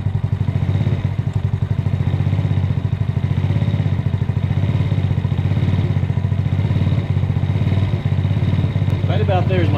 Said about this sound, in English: Right about there is my highest idle.